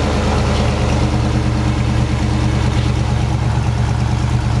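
A 1969 Camaro SS/RS V8 idles with a deep, steady rumble, heard close from behind the car, loud and even throughout with no talking.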